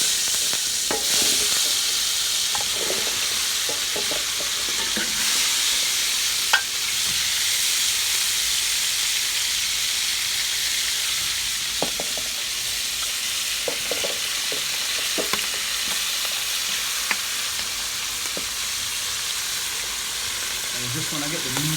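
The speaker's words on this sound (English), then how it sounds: "So we're gonna add this meat and start browning it up." Meat browns in a pot over a propane burner, giving a steady loud sizzle with a hissing flame roar and occasional scrapes and clinks of stirring, with no talking.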